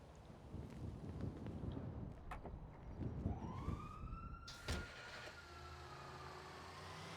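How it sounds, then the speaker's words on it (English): Emergency vehicle sirens sound near a hospital, faint and far off. A rising whoop sweeps up and fades behind gusty wind noise and outdoor rumble, and no one speaks. "You can hear the whoop whoops because they're at the hospital."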